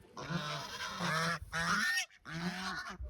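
Geese honking loudly and close while grain is scattered for them in a village yard, several long nasal honks in quick succession with brief gaps between calls.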